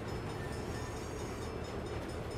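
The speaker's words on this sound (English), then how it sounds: "Time for a train." A train rumbles past in the video game Saints Row, a dense continuous roar with no pauses.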